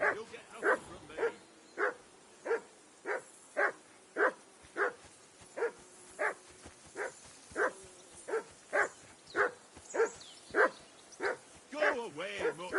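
A dog in the medieval game Kingdom Come: Deliverance 2 barks in a steady, evenly spaced series of about twenty sharp woofs, moderately close, with a few quicker yaps at the end against a quiet background.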